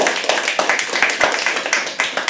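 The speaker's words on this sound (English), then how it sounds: "Start clapping." Audience clapping at a live poetry open mic, loud and close, with quick uneven claps from a small crowd continuing steadily throughout.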